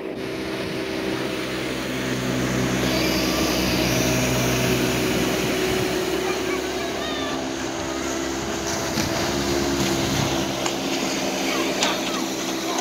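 A motorboat towing water skiers on the Erie Canal at Amsterdam, New York, holds a continuous droning engine hum across the whole stretch, with a voice talking over it.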